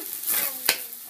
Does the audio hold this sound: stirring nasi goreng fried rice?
yes